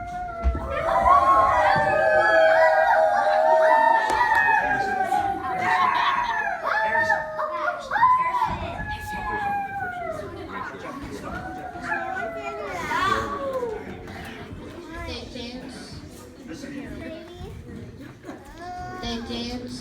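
Children at a Cub Scout campfire skit howl like wolves, several voices rising and falling in overlapping wavering howls that run nearly continuously throughout, loud and close, with a voice imitating the sound.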